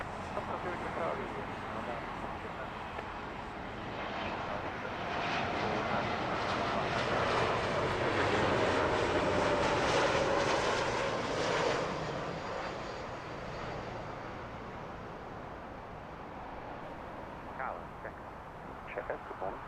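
A Lufthansa airliner on final approach to runway 09 left at Heathrow, its broad engine roar swelling and fading over about twenty seconds, with radio talk heard over it.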